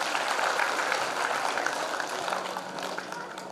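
Audience applause at a Shri Ram Katha religious discourse gathering in Bayana, a steady, dense wash of clapping from a crowd that holds for several seconds and tapers slightly toward the end.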